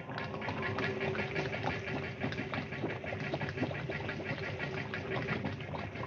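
A compressor aboard a 1930s Coast Guard vessel runs with a steady mechanical chugging hum and rapid rhythmic knocking, constant and moderately loud, with no voices.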